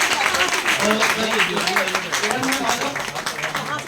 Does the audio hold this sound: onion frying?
no